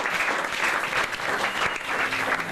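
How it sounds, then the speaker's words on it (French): A church congregation claps and cheers in praise, dense steady applause filling the room for a few seconds with no talk over it. "Acclamez très fort le Seigneur."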